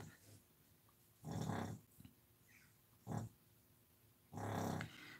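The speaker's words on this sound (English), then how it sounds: "He is very loud" A sleeping dog snores loudly nearby, three rough rumbling snorts at irregular intervals, the first and last long and the middle one short, over a quiet room with no talking.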